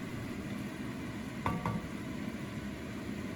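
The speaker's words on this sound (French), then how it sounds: "On laisse bouilloter ça pour que ça réduise" A sauce left to simmer and reduce in a pan, for a dish later topped with Emmental, gives a steady close sizzling bubble with a brief louder crackle partway through, and no voices.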